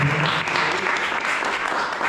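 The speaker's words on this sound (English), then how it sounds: "we can give her a little round of applause" Steady round of applause from a gathered audience at a devotional class on Lord Siva, dense clapping filling the room at even loudness throughout, with a faint voice underneath.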